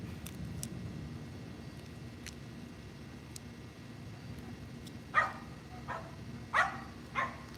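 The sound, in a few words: dogs barking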